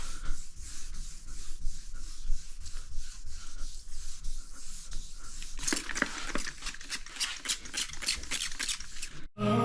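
Paint is wet-sanded with 1200 grit paper on a semi-hard block, making repeated rhythmic rubbing strokes that grow harsher and scratchier in the second half, close and clear.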